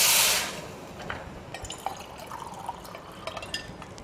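Water is poured from a tumbler onto rice in a cooking pot while making veg pulao: a short, loud gushing pour at the start, then faint scattered drips and small splashes.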